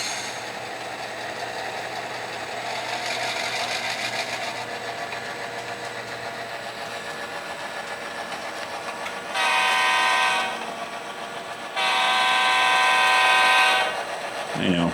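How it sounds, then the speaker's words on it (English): A model diesel locomotive horn sounding on a model railway layout over a steady engine hum, two loud multi-tone blasts in the second half, the latter one longer. "Just wanted to hear the horn."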